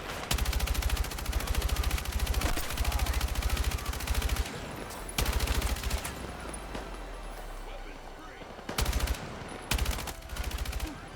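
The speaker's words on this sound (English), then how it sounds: "Well, good thing I have a machine gun for this." Machine gun fire in the Battlefield 6 video game, loud rapid bursts of automatic shots in several stretches separated by short pauses, with game ambience between the bursts.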